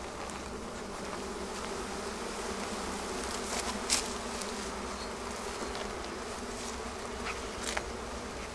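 Honeybees buzz loudly inside a crowded hive during a spring build-up, a dense, steady hum that fills the whole stretch without any talking.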